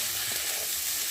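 Chopped bottle gourd stir-fried in a hot pan, a faint steady sizzle with soft hiss, no voices, lasting about a second.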